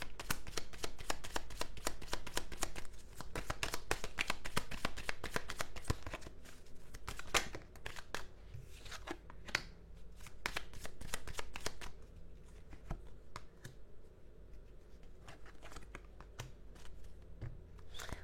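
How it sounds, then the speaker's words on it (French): Tarot cards shuffled continuously by hand, a close, rapid, crisp riffling and slapping that runs on for many seconds, growing slightly sparser toward the end, with no talking over it. "je vais juste rajouter des cartes parce que j'ai besoin de précision"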